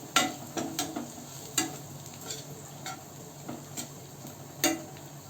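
Kitchen King masala and Kashmiri red chilli powder being stirred in a pan for a roasted eggplant bharta, a low sizzle broken by sharp intermittent clinks and scrapes of a spoon against metal, close by with no voices.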